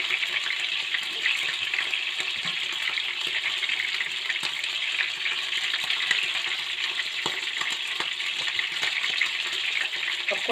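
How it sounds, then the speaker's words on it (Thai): Pork naem and liver fry in a pan with a steady, close crackling sizzle and scattered pops throughout, no talking. "ทอดตับด้วยทอดแหนมด้วย"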